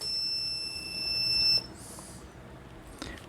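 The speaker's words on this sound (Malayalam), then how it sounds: "ഒരു ബസറിൻ്റെ സൗണ്ടും കൂടെ കേൾക്കുക." Buzzer of a water level controller sounding as the pump motor switches off: a steady electronic tone for about a second and a half, then a short higher beep, fairly faint against a quiet room.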